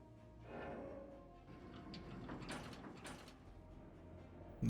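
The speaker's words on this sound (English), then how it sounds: "We get another elevator ride" An elevator ride in Stranger of Paradise: Final Fantasy Origin, with a steady low mechanical rumble and grinding as the lift moves, sliding faintly before a sharp clunk at the very end.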